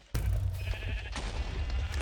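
Sheep bleats from the Hypixel Sheep Wars minigame, a few short calls rising over a steady low game rumble, fairly close and clear.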